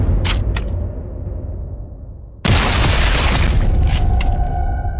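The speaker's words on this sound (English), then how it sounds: "I just missed a grenade." A grenade explodes in Sniper Elite 5 with a sudden loud boom midway, followed by a roaring, crackling aftermath, after some quieter rumbling and a couple of sharp clicks beforehand.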